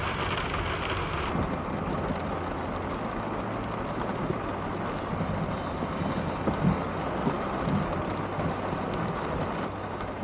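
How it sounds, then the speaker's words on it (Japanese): Heavy typhoon rain pours over Shinjuku in Tokyo, a dense, steady roar of drops hitting surfaces that holds at an even loudness throughout with no voices. "新宿はめちゃめちゃ雨が降ってます。"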